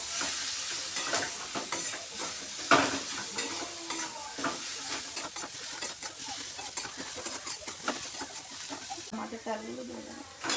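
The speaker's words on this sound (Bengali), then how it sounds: "এবার নাড়িয়ে চাড়িয়ে নেবো।" Chilli powder and coriander powder being stirred in an oily pan for a winter vegetable curry, a moderate sizzle with scraping spatula strokes and a sharp knock, and a voice talking softly over it.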